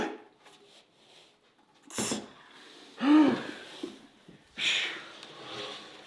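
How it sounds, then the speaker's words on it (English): A man breathes heavily after hand sanding a wooden live-edge bench. Several loud, ragged breaths and gasps come close to the mic, separated by quiet pauses. "I'm just a little bit out of breath right now"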